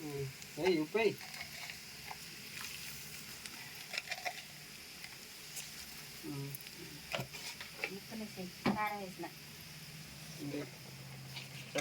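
Fish pieces fry in hot oil seasoned with turmeric and salt, giving a steady close sizzle with occasional stirring and clatter, while a voice talks intermittently over the cooking.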